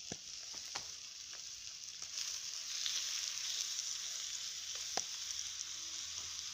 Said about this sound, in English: hopefully capture the sound of bacon.